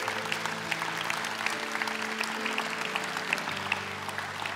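Steady applause fills a church as people gather at the communion table before being baptized, dense clapping continuing without a break over a low hum of organ or background tones.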